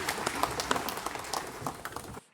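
A congregation applauds during a Korean church worship service, a dense patter of many hands clapping at moderate distance that cuts off abruptly into silence at the end.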